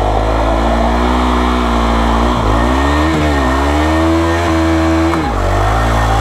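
A KTM Duke 390 motorcycle doing a burnout: a loud, continuous high-revving engine roar with rising and falling pitch swings as the throttle is worked, heard up close throughout.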